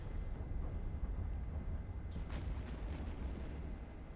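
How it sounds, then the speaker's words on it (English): A ship explodes in the space game Eve Online, a low, rumbling blast with a muffled, steady roar that lingers and fades over a few seconds, with no voices. "let's watch it, the nice explosion."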